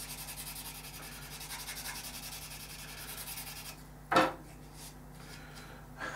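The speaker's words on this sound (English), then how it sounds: "that tiny little bit of sanding you've just seen me do" Soft, steady scratchy rubbing of fine sanding on a plastic model seam continues for several seconds, followed by a brief louder scrape and quieter handling noises.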